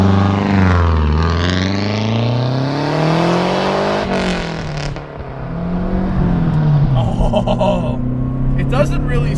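Lancia Delta HF Integrale Evo I fitted with straight pipes, driving with a loud, rising and falling engine note that climbs through the gears, heard close from inside the car with talk over it.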